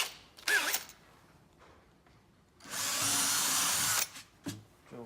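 A power drill with a 6mm bit drills through steel and then rubber on a Tennant T300 scrubber: a brief whir first, then a long, loud, steady grinding run of over a second, followed by a few short trailing bursts, close up.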